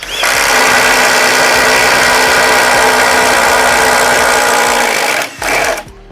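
A Flex cordless drill running on a 5 Ah battery boring a 1-inch hole, a loud steady high-pitched whine and grinding for about five seconds, then a brief dip and surge before it stops.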